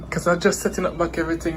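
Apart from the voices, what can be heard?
None of the usual background noises is heard.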